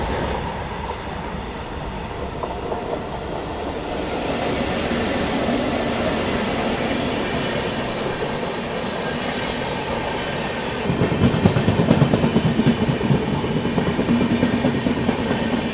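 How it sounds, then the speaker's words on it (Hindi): The 12988 Ajmer-Sealdah Superfast Express slowly overtakes the Delhi-Gaya Amrit Bharat Express, heard from on board as a steady rumble and wheel clatter that grows heavier and louder partway through as the passing train draws alongside. "पीछे से आती हुई 12988 Ajmer Sealdah super fast express अपनी दिल्ली गया अमृत भारत एक्सप्रेस को ओवरटेक करने आती हुई"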